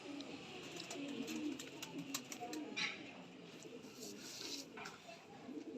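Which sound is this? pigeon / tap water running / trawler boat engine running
pigeon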